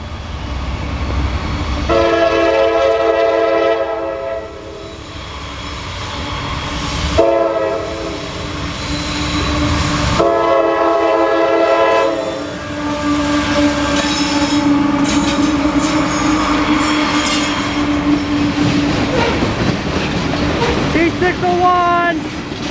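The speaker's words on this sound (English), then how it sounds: "Here comes the train." A CSX northbound coal train rolls past in Marion, Ohio, sounding several loud, sustained horn blasts over a steady rumble of wheels and railcars that continues between and after the blasts.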